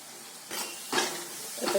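Curry leaves hit hot oil in a pan, giving soft sizzling bursts that flare up three times in quick succession over a steady low frying hiss.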